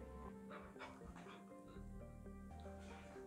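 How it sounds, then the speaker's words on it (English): Dogs play together, giving soft yips, brief barks and whimpers over steady background music, fairly faint, with no talking. "one of the dogs is challenging the other one to play"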